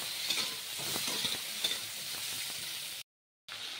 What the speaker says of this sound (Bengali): আর এইদিকে তো মশলাটা বসিয়ে দিয়েছি, এটা আরেকটু ভেজে নেব।